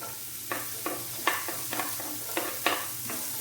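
Garlic, ginger and onions fry in a pan with a soft hiss, broken by regular scraping strokes of a stirring spoon, fairly close and alone.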